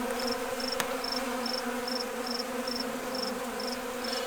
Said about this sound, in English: And the bees, as you can see, they're already covering her